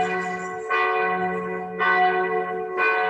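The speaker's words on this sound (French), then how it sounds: "les cloches de l'église qui sonnent" Church bells ring out loud and resonant, with three distinct strikes each leaving a long humming tail that overlaps the next.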